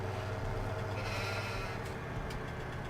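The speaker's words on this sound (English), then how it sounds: "Yeah, sheep." Sheep bleating in the farming video game Farming Simulator 17, a few short bleats rising over a constant low engine-like drone and ambient game background.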